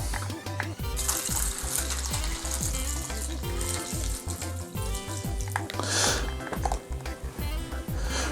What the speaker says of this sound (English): We're gonna pour our drink into the bowl.